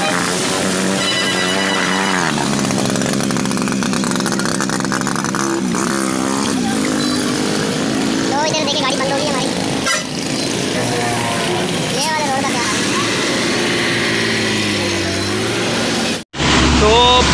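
A motorcycle damaged by flood water during the 2022 Pakistan floods runs with a loud, rough, continuous engine drone that varies in pitch. People talk over it throughout.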